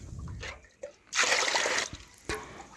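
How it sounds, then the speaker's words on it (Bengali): Water is poured over raw rice in a pot, with a short loud splashing gush in the middle and a couple of brief trickles and splatters around it. "আর দেখুন আমি চালটাতে জল ঢেলে দিচ্ছি পরিমাণ মতো।"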